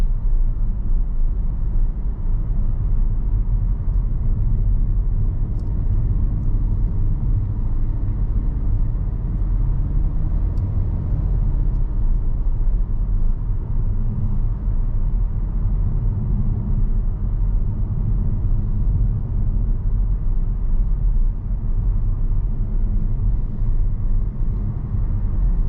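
Interior of a 2025 Kia Soul EX on the road, with a continuous loud low rumble of engine and road noise as the car accelerates, steady for the whole stretch with no talking.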